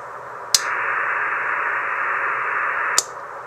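A radio receiver hisses with steady white noise shaped by a SCAF audio filter, a flat, band-limited rush broken by two sharp clicks, with no talk.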